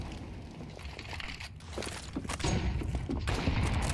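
Grenades burst during a professional Counter-Strike match, a dense crackle of blasts and gunfire-like pops that swells louder in the second half, with game noise filling the background.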